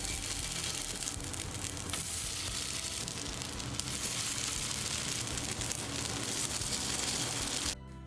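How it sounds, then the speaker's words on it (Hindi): Dalia porridge snack sticks fry in a small amount of oil with a steady, dense sizzle that holds at an even level throughout, then stops abruptly near the end. "बाकी का बैच भी हम इसी तरीके से कम तेल में तल लेंगे"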